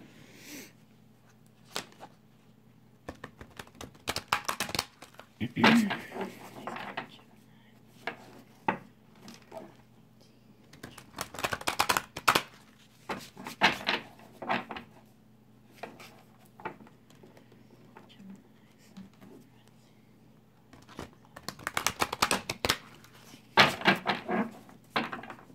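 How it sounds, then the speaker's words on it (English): Tarot cards are shuffled close by in a quiet room, coming as irregular bursts of soft riffling and shuffling with light taps and short pauses between. "I'm just going to shuffle these cards real quick"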